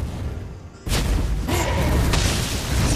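An explosion as a turret is destroyed in a mobile multiplayer game, a sudden loud boom that cuts in and rumbles on amid busy in-game effects.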